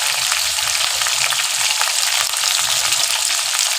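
Chicken pieces frying in hot oil, a dense, loud, continuous crackling sizzle that stays steady throughout, close up and with no talking.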